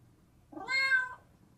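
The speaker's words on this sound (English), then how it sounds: "Now he's got a fucking cat meowing" A cat lets out a single clear, drawn-out meow, close and alone over a quiet background, played as part of a prank.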